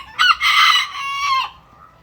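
A chicken close by lets out a loud, drawn-out crowing call, strained and ringing, with a short cluck at the start.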